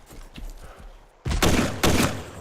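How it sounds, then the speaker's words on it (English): Weapon fire in the video game DayZ: after a quiet stretch with faint tapping, two loud, sharp gunshot blasts go off close by about half a second apart, each one booming and fading. "as you can hear, different weapon sounds as well"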